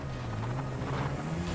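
Helicopter in a street video game, a steady close rotor drone with a low humming tone for about a second and a half, no talk.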